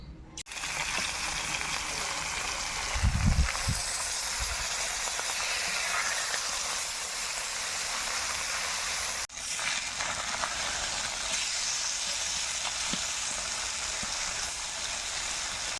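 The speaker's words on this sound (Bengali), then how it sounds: "মাছগুলো আমি ভেজে নেবো" Small tengra and mourala fish sizzle in hot oil, producing a dense, even frying hiss that carries on steadily and loud with a couple of brief bumps and no talking.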